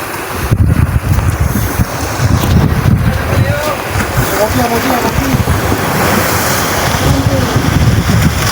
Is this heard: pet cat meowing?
no